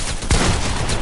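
Video game gunfire cracks out as a loud, sharp burst about a third of the way in, followed by a dense, rumbling wash of shots that carries on to the end.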